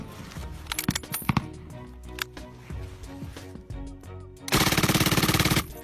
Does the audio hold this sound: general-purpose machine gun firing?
yes